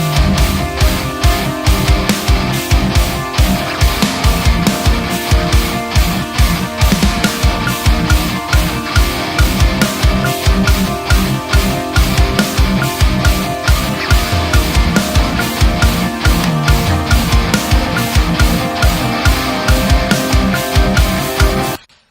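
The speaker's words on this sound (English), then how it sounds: "So basically the guitars, rhythm guitars and drums sound like this." Programmed drums driving a tight, dense rhythm alongside chugging rhythm guitars in a demo mix, loud and continuous with steady on-grid hits throughout, ending abruptly; no voices.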